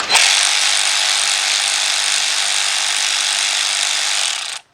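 A power tool runs steadily for about four and a half seconds, removing a 10mm bolt from a connector bracket under a Kia or Hyundai engine during a timing chain job, with a close, continuous whir that cuts off at the end.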